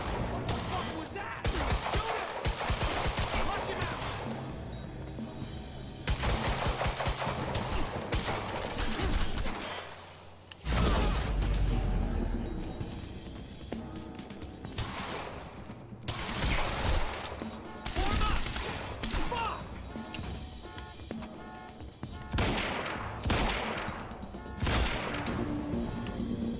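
Gunfire in the video game Quantum Break, loud repeated volleys of shots in bursts with a brief lull partway, near and dominant, with shouted voices mixed in.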